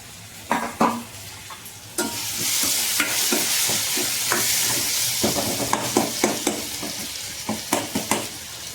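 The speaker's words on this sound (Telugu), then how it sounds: "చింతపండు పులుసు పోసేసుకున్నామండి." Tamarind juice hits a hot pan of frying food with a loud, steady sizzle, while a utensil stirs and clinks against the pan in scattered knocks throughout.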